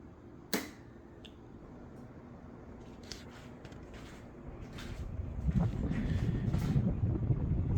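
Fandelier ceiling fan running overhead, a soft steady whoosh that grows into a louder rumble of wind buffeting the microphone, with one sharp click near the start.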